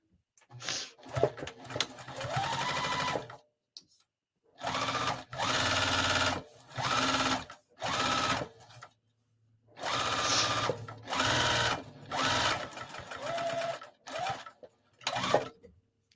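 A sewing machine bastes fabric in close, loud bursts of rapid stitching, about eight runs of one to two seconds each, separated by short silences and no speech.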